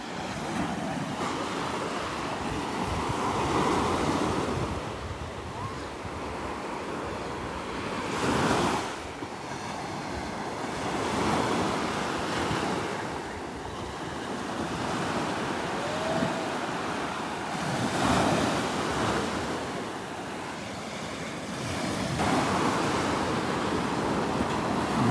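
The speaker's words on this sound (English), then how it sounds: "Nice waves." Ocean waves break and wash up on a beach in North Naples, Florida, at sunset, a steady surf roar that swells with each breaking wave every few seconds, with some wind buffeting the microphone.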